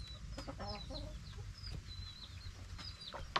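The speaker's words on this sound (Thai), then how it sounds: "มีไก่ด้วยเลี้ยงไก่เลี้ยงปลานะคะ" Chickens in a forest dwelling cluck softly and intermittently over a steady low hum, with faint high chirps scattered through; no one speaks.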